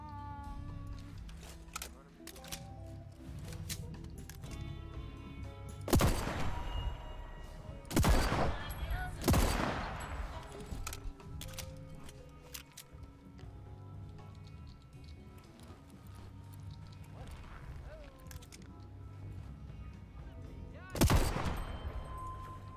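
Gunfire from a favorite gun in the video game Deathloop: several sharp, loud shots stand out over a busy game soundscape with music, with about three bursts spread across the stretch.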